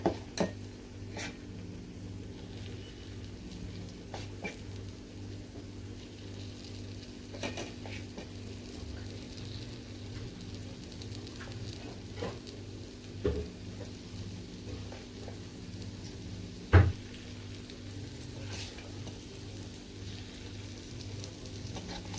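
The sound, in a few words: appe batter frying in appe pan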